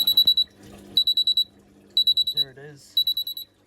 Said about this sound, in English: Where's that beeping?